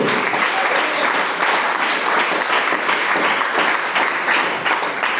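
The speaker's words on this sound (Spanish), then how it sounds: "Puede aplaudir al Señor." Church congregation applauding during a sermon, a steady wash of many hands clapping at an even level throughout, with no talking over it.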